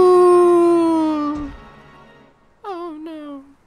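A long, falling howl, then after a pause a shorter, rising howl that also fades away; loud and close, a voice actor imitating a wolf in Twilight Princess.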